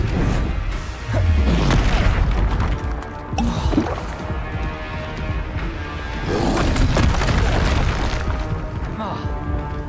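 Confringo fire spells explode repeatedly in Hogwarts Legacy combat on hard difficulty, giving loud booming blasts and crashing impacts, with a voice shouting spell names over the fight.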